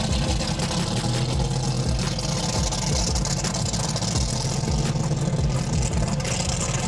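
A supercharged Dodge Viper idles up close with a deep, lumpy rumble, pulsing in a loping rhythm that holds steady throughout, with no voices over it.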